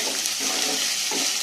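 Minced meat (keema) sizzles steadily in a hot pan, a close, continuous hiss with a few soft stirring scrapes.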